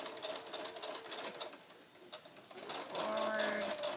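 Sewing machine stitching a tutu closed, running forward then reversing for a back stitch, its rapid mechanical whirring and needle chatter steady and close, with a spoken voice overlapping near the end.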